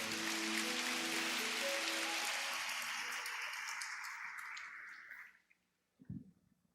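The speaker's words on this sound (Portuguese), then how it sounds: "Dê um aplauso bem forte ao Senhor." Loud, dense applause from a church congregation during a service, a broad wash of clapping that fills the first five seconds, then fades out quickly, followed by a brief low thump near the end.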